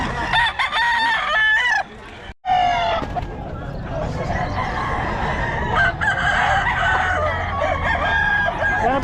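Roosters and hens at a roadside poultry seller's stall near a tricycle parking area crow and cluck loudly and continuously, with several long crows overlapping close by and voices in the background.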